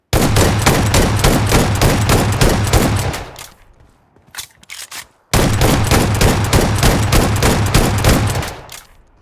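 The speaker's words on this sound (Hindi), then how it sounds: "आपने देखा होगा कि कितनी फास्ट मैं यहाँ पे फायर कर पा रहा हूँ थंब से जब मैं यूज़ कर रहा हूँ" S12K shotgun rapid-fired in the mobile game BGMI: a loud, dense burst of fast repeated shots for about three seconds, a brief lull with a few scattered shots, then a second long rapid burst.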